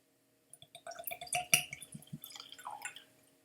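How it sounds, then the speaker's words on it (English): Glenfarclas 21-year-old Speyside single malt Scotch whisky poured into a glass, a quiet trickle of small drips and splashes with a faint glassy clink, close and soft, tapering off at the end. "I'm gonna get this poured."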